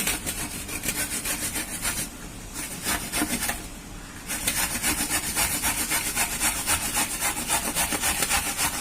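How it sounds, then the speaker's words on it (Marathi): Fresh coconut is grated by hand on a grater, giving a steady run of quick, close rasping strokes with a brief slower patch midway before the brisk scraping resumes. "हे बघा, आपण आता किसणीने किसून घेऊ।"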